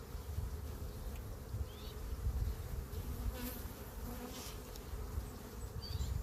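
Honey bees buzz steadily around the frames of an open beehive while honey supers are being added, a dense close swarm hum that holds throughout at even loudness, with no talk.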